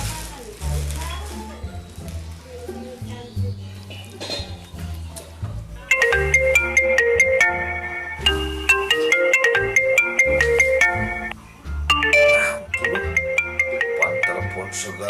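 A phone ringtone plays a bright, repeating electronic melody that starts partway through and rings loudly in a steady pattern, briefly cutting off before resuming, over background sounds in an indoor scene.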